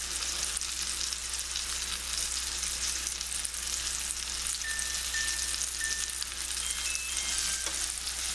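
A thick cod filet browns in a hot pan, giving a steady, even sizzle that holds at a moderate level throughout with faint clicks, no speech over it.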